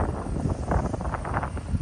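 Wind gusting during snowfall, a rough low rumbling buffet against the microphone that swells and fades in uneven waves, close and fairly loud with no voices.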